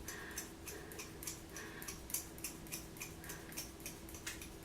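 Scissors snip steadily through hair during a home layers-and-bangs trim, a quiet, regular run of crisp clicks about every quarter second, close and low in level with no talking.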